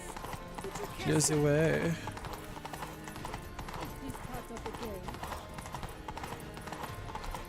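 Galloping horse in The Witcher 3, rapid clip-clop hoofbeats running steadily throughout with a loud whinny near the start, while someone talks over it.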